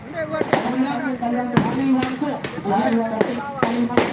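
Firecrackers bursting at an Eid al-Fitr village celebration, sharp loud cracks recurring roughly every half second over steady crowd noise and an announcer talking on a loudspeaker.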